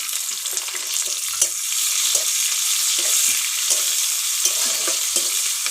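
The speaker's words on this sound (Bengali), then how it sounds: "এর মধ্যে আমি দিয়ে দেবো রসুন কুচি, কাঁচা লঙ্কা চেরা আর পেঁয়াজ কুচিগুলো।" Chopped garlic, slit green chillies and chopped onion frying in oil in a pan, a continuous close sizzle with frequent stirring scrapes and ticks throughout.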